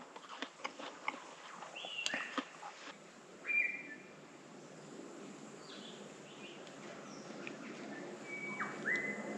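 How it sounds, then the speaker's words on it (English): Birds chirp and whistle in short scattered calls over a faint steady outdoor hiss, some notes louder and nearer than others. "Just hearing these really nice bird sounds"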